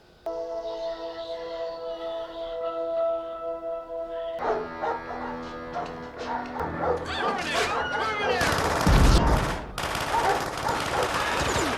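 A dog barks in the 1984 film The Terminator, with repeated barks building amid film music and bursts of gunfire, growing loud and busy toward the end.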